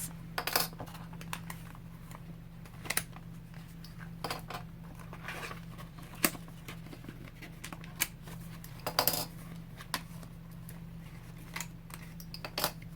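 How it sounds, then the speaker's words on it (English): Metal binder clips coming off a handmade sewn journal, a series of sharp metallic clicks and small clinks at irregular intervals over a faint steady hum. "And now we can take off our binder clips."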